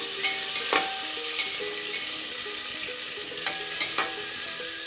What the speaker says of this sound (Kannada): ಉಳ್ಳಾಗಡ್ಡಿ ಹಾಕೋತೀನಿ ಉಳ್ಳಾಗಡ್ಡಿ ಚಲೋ ತಂಗೆ ಫ್ರೈ ಮಾಡ್ಕೋಬೇಕು